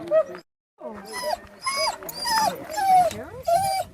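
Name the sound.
sled dogs at a dog sledding kennel in Banff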